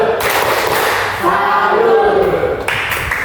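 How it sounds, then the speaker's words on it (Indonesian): A group of children clapping a rhythmic tepuk salut cheer in a classroom, broadband bursts of claps at the start and end, with voices chanting together in between. "kita tepuk salut untuk kita semua ya"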